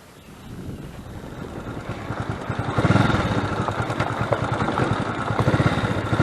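A motorcycle riding along village roads in Polesia, Zhytomyr region, its engine rising from a distant hum to a loud, close, throbbing drone with uneven pulses as it approaches and passes.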